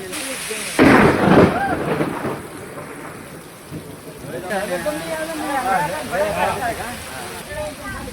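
Thunder cracks loudly near the start over steady monsoon rainfall in a village, and people talk through the rest of the downpour.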